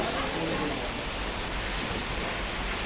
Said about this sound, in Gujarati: મસ્ત વરસાદ આવ્યો છે જો